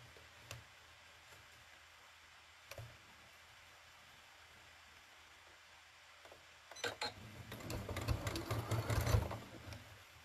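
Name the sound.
sewing machine stitching a woven basket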